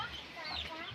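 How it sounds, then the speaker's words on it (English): Hens in a cage inside a chicken coop cluck softly in a brief, faint burst, with a voice talking nearby. "I think there's hens in one of the cage."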